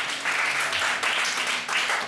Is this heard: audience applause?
yes